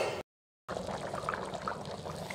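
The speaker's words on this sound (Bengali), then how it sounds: "এরপর জল ঢেলে দিব, দিয়ে দিয়েছি।" Water is poured into a pan of pea curry (ghugni) with boiled peas, a brief splash and then a continuous bubbling, trickling wash after a short cut, close by and without talk.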